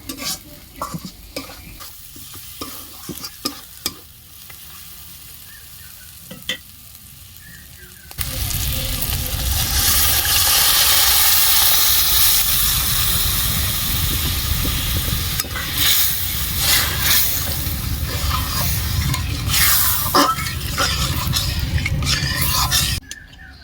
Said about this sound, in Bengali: তো দেখো মশলাটা দিয়ে ভালো করে একটু কষিয়ে নিয়েছি এবার ডালটাকে ঢেলে দিয়ে দেবো